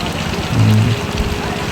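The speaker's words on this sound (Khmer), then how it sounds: "មេឃក៏ចាប់ផ្ដើមរលឹមភ្លៀងស្រក់ស្រក់ ចាប់ទឹកភ្លៀងហើយ" Light rain patters down at a lake during a family fishing outing, a soft, even hiss of drops throughout, with a brief murmur of a voice partway through.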